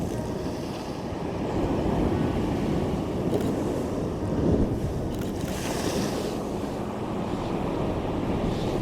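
Waves roll and surge close by, mixed with strong gusts of wind buffeting the microphone, a continuous loud roar with no voices.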